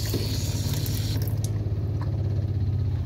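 A water pump in a Grand Design Momentum 21G RV primes the water lines, a steady low hum with pulsing throb and rushing water spray that drops away midway, leaving the pump droning on alone.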